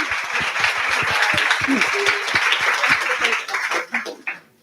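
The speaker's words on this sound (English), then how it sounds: "I think first I'd like to do a big round of applause for Lucy, Winnie and Rowan" An audience at a summit claps for several speakers, a dense patter of hand claps that thins and tapers off over a few seconds, with a voice speaking at the start.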